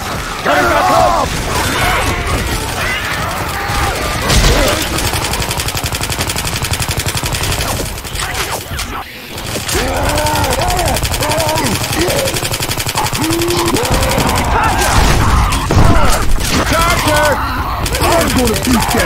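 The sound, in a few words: gunfire in the video game Left 4 Dead 2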